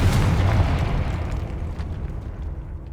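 A Confringo blasting spell detonates in Hogwarts Legacy, a loud, close booming explosion with a heavy rumble that slowly decays over a few seconds.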